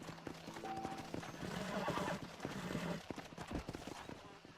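A horse in the western video game Red Dead Redemption gives a clear whinny while its hooves clip-clop in quick irregular steps, both close and moderately loud over a steady background ambience.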